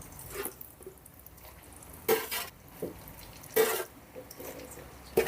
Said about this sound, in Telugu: ఆయిల్ వేడైందండి మిగిలిన చకోడీని కూడా వేసుకుందాం